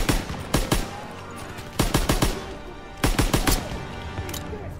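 Gunfire in a World War II Call of Duty campaign battle: loud clustered bursts of shots, three volleys in quick succession, ringing over a rumbling battlefield backdrop.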